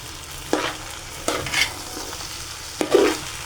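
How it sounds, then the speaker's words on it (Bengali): Pulao rice with bay leaf stirred in a pot, three distinct scraping strokes about a second apart over a soft background sizzle, close and unaccompanied by voices. "নেড়ে দিচ্ছি ভালো করে,"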